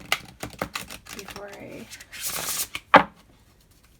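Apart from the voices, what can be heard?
shuffling a new deck of oracle cards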